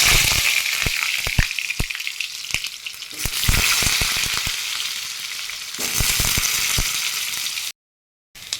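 Sliced potatoes sprinkled with turmeric fry in mustard oil in a kadai for aloo dum, a loud continuous sizzle close by with sharp clicks of stirring and a brief cut to silence near the end.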